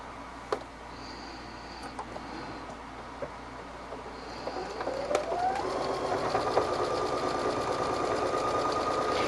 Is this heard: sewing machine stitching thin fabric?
yes